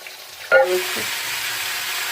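Water splashes into a hot pan of cooking greens, setting off a sudden burst of loud sizzling that settles into a steady frying hiss.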